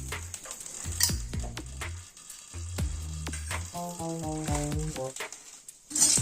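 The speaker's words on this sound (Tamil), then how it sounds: "மிளகாய் சேர்த்து வறுக்கிறோம்." Chillies frying in cooking oil in a kadai while making mint chutney, a steady crackling sizzle with clinks of a ladle on the metal and a tonal hum that shifts in steps.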